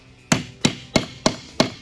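A hammer drives a small nail into a wooden beehive frame while wiring a foundationless frame. Five sharp, evenly spaced strikes land close and clear, with no talking.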